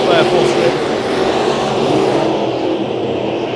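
Race cars roaring around Bakersfield Speedway during a heat race, a loud, continuous engine drone that slowly fades as the cars pull away, with a commentator talking over it.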